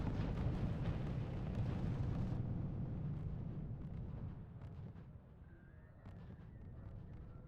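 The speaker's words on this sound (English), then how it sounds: "The barrage over here, which is killing the depot and a bunch of light" Artillery barrage explosions in the strategy game RUSE, a dense rumbling roar of overlapping blasts that is loudest at the start and then thins into scattered distant booms and crackles.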